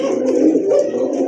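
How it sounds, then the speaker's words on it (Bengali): A big female pigeon coos steadily at close range, a continuous low throaty purr filling the whole moment with no pauses and no talking. "বড় পাড়ার একটা বিগ সাইজের মাদি কবুতর"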